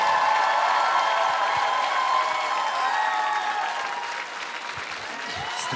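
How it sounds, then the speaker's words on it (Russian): A concert audience applauds warmly and continuously for the composer's daughter, broad steady clapping with light cheering that eases slightly toward the end while a sustained tone lingers underneath. "Это дочка Виталия, да, ей тоже аплодисменты."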